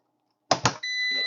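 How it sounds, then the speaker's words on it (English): An EG4 6000EX inverter during a firmware update gives two quick loud clicks or thumps, then a steady high-pitched electronic beep that sustains close by, with no talking. "That's a whole lot of beeping."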